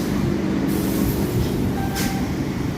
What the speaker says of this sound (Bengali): একটি ট্রেন হুগলিঘাট রেলওয়ে স্টেশনে প্রবেশ করছে